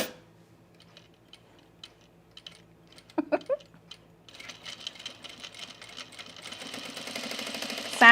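A domestic sewing machine stitching with regular bobbin thread while a men's utility jacket is sewn: a few clicks and light taps, then the motor starts and hums into a steady, rising rattle, close and alone.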